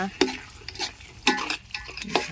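Thin rice noodles and scallions are stir-fried in a wok, with several rhythmic spatula scrapes and tosses over a light sizzle and no talking.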